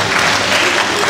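A brief, loud burst of concert audience applause at a 2014 show in Shepetovka, dense clapping with no voices on top.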